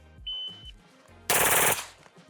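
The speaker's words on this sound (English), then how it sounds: "We're gonna go ahead and dump the rest of this mag though." A short, loud burst of automatic fire from an MP5 submachine gun, emptying the rest of the magazine, lasting about half a second in the middle of quieter range sound.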